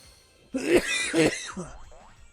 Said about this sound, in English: I'm just coughing a lot right now.